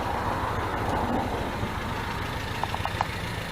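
A 1977 MGB engine runs at a steady idle, a constant low rumble that fills the whole stretch, with a few faint light ticks near the end.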